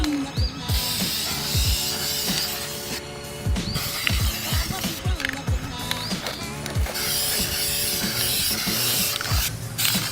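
Aerosol spray paint hissing in short bursts as a first coat goes onto a Nissan 350Z side mirror, close and fairly loud, with clicks and rattles of the can between passes.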